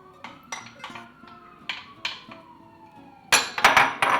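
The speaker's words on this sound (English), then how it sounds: "you put your onions in" Onions drop into warm oil in a pan with a series of light clinks and taps, then a sharper, louder burst of sizzling clatter near the end.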